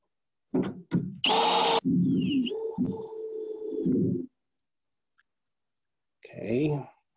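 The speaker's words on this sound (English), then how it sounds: "I'll just drill a couple holes here." A power drill bores holes into a wooden raised garden bed board, giving a loud whining burst followed by a sustained grinding run that cuts off, then a second short burst; close up with no voices.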